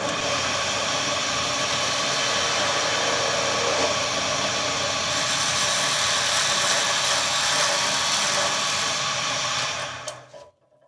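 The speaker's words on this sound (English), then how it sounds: "So I'll turn this end down here to roughly 18 millimeters" A knife handle end is turned down on a lathe, giving a steady loud whirring, grinding drone that runs continuously before the machine cuts off and falls quiet near the end.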